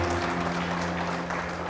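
A church congregation applauds in a sustained, dense wash of clapping, with a low musical hum underneath.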